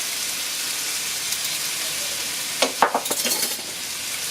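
Ground cumin and coriander being stirred into shakshuka in a pan: a steady hiss of sizzling throughout, then a short run of scraping stirs close by near the end.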